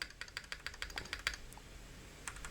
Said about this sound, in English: so that's what the keyboard sounds like